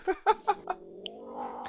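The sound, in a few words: cat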